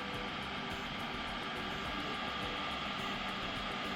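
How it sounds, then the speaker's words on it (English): Cooling fans on a drone fitted with a PolarPro Katana gimbal run loudly, a constant close whirring hum with a faint whine that holds steady throughout. "the drone has cooling systems and they are loud"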